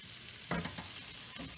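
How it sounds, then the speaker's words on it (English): Small hamburger patties browning in Crisco oil in a pan, a steady, close hiss of frying with a brief louder crackle and stirring noise partway through. "we've got these little hamburgers browning up in some Crisco oil"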